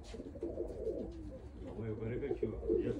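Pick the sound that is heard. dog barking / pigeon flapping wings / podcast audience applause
pigeon flapping wings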